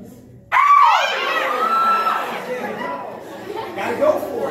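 An audience at a motivational talk bursts into loud, sustained yelling and screaming together after a brief quiet, holding the roar for several seconds before it thins into scattered shouts.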